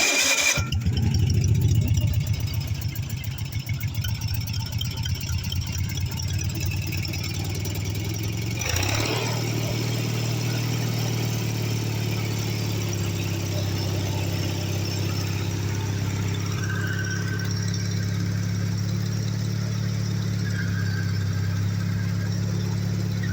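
A Kubota engine mounted on a Wheelhorse D-200 tractor starts with a brief squeal and settles into a steady, close mid-pitched idle. It runs smoothly for about twenty seconds with a faint whine above it.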